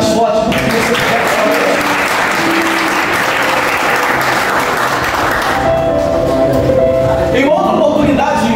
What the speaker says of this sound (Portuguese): você pode aplaudir o mais forte do que você puder